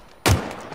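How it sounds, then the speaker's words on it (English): A spike grenade detonating in the Halo Infinite video game, heard as a single sharp, loud burst that rings briefly and then fades. "Spike grenades."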